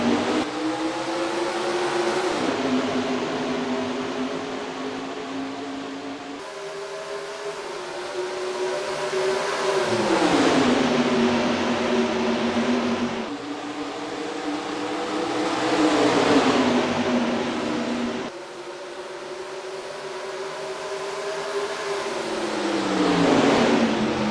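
Stock cars in a NASCAR Racing 2003 video game race at ISM Raceway, with engines roaring continuously and loudly, rising and falling in pitch as cars pass and shift, with no talk.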